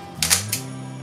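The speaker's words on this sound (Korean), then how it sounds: "이거 우리 옛날에 듣던 샷다 소리 그거네." A Konica film camera's mechanical shutter fires with two or three quick, close clicks over a faint steady hum, loudest in a sharp central snap.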